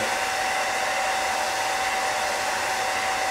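A heat gun blows hot air onto vinyl wrap on a 2004 Ford Mustang GT, a loud, steady whooshing fan roar with a faint constant whine, held close and unbroken with no talking.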